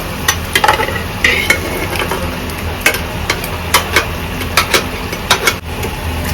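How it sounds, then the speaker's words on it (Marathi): Cooked vegetables being stirred and mixed with a spoon in a pressure cooker, giving irregular scraping and clinking strokes over a steady background hum, close and fairly loud, with no talking. "आता आम्ही व्यवस्थित मिक्स करून घेणार आहे"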